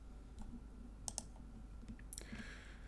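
The X key being pressed on a computer keyboard: a few faint, sharp clicks, including a quick double tap, over a low steady hum in a quiet room.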